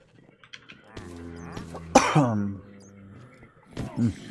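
A few harsh coughs and throat-clearing sounds, close by, with a louder burst in the middle and a short one near the end; no speech.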